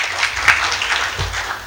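Audience applause at a talk on family book reading, a continuous dense clapping from a sizeable crowd, steady and fairly loud, with a faint voice low underneath.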